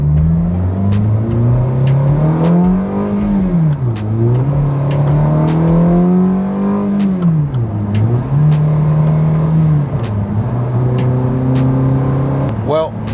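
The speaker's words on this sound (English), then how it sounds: "This engine likes the gas pedal. When I shift gears and then I start to lift off," A Ferrari F430 engine with a manual transmission revs close and loud inside the car. The pitch climbs, then drops sharply at each gear shift, again and again across several shifts, ending in a brief tire squeal.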